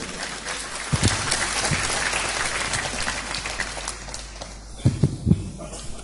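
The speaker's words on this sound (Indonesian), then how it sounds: "Tepuk tangan semua untuk Mas Helmi." An audience at an evening Javanese cultural talk claps steadily for several seconds, a moderately distant crowd applause that thins out, then flares in brief louder bursts near the end.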